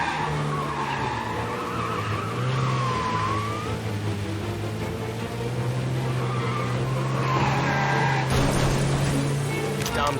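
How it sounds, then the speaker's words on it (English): A car in Mafia: Definitive Edition skids with sustained tire squeal over a steady engine drone, then a crash near the end; someone talks throughout. "Dumb son of a bitch just wrecked himself."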